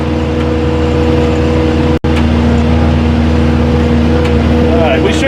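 An LS MT473 tractor climbing a hill in a hayfield on R14 tires, its engine a loud steady drone broken by one brief cut, with talking over it.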